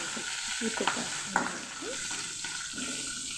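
Spices sizzling and being stirred in hot oil with garam masala for a mixed sprouts curry, a soft steady frying hiss broken by a few clinks and scrapes of a spoon against the pan.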